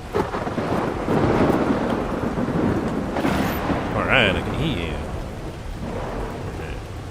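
Thunder rumbling over steady rain in a storm inside the video game Ark Survival Ascended, with a loud crack near the middle, while a person speaks briefly over the continuous downpour.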